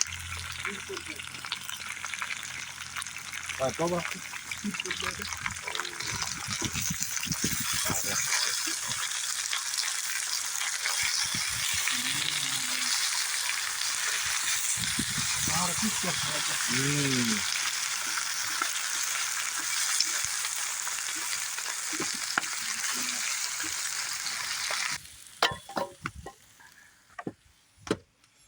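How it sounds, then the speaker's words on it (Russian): Steady loud sizzling of potatoes frying in a pan, continuous for most of the stretch, with occasional stirring scrapes and a brief spoken word near the end. "Картошка жарится."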